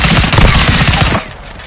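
Assault rifle fire in Call of Duty, a loud, close, rapid automatic burst lasting about a second before cutting off into quieter background.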